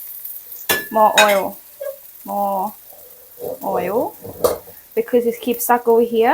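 Thai roti dough fries in oil on a hot pan, giving a soft, steady sizzle beneath a person talking close by.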